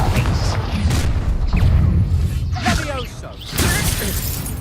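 A Confringo blasting spell goes off in the Hogwarts Legacy video game, a loud crashing burst amid sustained battle noise and effects, with a voice shouting the spell name.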